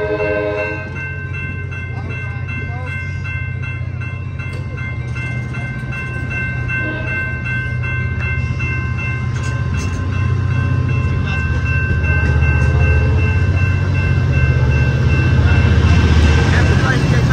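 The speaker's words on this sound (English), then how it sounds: "That train is going to Bakersfield." An Amtrak San Joaquin passenger train bound for Bakersfield, passing through Stockton station in California with a deep, steady diesel rumble and engine drone that grows louder as it approaches.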